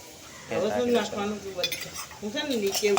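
Potatoes are stirred in a cooking pan, with a spoon scraping and clinking against the metal in short uneven strokes, close by and fairly clear, over a soft background of frying.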